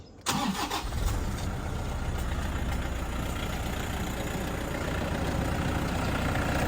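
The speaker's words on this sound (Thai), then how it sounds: "เสียงเครื่องยนต์ดังนิ่มมากนะครับ" A 2011 Toyota Vigo Smart Cab 2.5 diesel pickup engine cranks and catches, then settles into a steady low idle rumble, close and constant with no talking.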